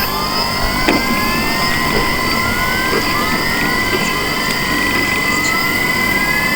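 Propellers of a manned personal drone spinning at high RPM, a loud steady roaring drone with whining tones that rise and fall, close by, with no talk.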